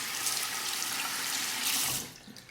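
Warm tap water runs steadily over a Proraso boar-bristle shaving brush, a close splashing hiss that cuts off near the end, leaving a few faint drips.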